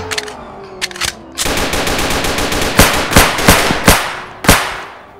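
Rapid automatic gunfire in a video game, several sharp bursts of shots that stand close and loud over a steady background din, with a few heavier single reports spaced out toward the end.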